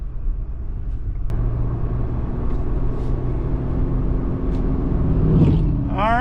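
A Jeep Gladiator drives on the road after a backyard wheel alignment, a steady low engine and tyre rumble with a sharp click early on and brief speech near the end.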